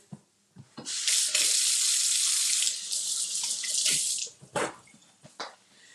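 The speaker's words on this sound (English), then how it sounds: "So let me wash my hands." Hand washing under a running sink tap with Luna jasmine, sweet pea, berries and sandalwood hand soap: a steady close water rush of about three seconds, with a few handling clunks and splashes before and after.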